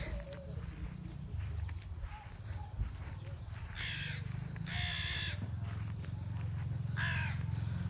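A crow caws a few times, loud and harsh, with pauses between calls, over a steady low rumble and some footsteps outdoors.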